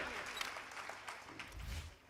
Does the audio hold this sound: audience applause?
yes